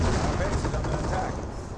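MG-42 machine gun fire in Company of Heroes, a loud, dense burst of rapid gunfire with booming impacts filling a short stretch, with no gaps between shots.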